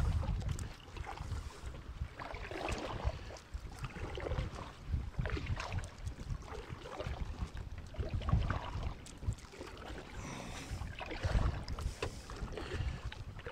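Water splashes and swishes steadily as a canoe paddle pulls through it on a windy lake in the Boundary Waters Canoe Area, with gusty wind rumbling across the microphone throughout.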